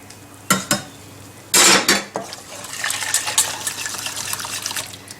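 Spoon stirring a thickening mixture in a metal pot: a few sharp clinks against the pot, then a steady wet scraping and sloshing close up, with no talking.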